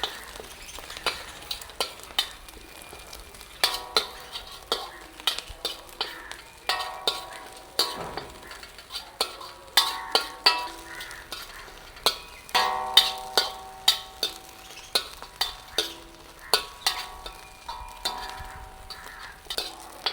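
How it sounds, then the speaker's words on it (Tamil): Pieces of shark fish sautéing in hot oil, a low sizzle broken by frequent sharp scrapes and taps of a spatula against the pan in a fairly regular rhythm, close up. "இப்போ எண்ணெய் சூடாகிட்டுது. நான் முதல்ல இந்த சுறா மீனை தான் இதுக்குள்ளே போடுவேன்."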